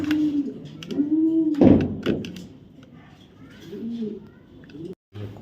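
A pigeon coos in low, rolling calls up close, interrupted midway by a sharp thump, then softer cooing resumes before a brief cutoff.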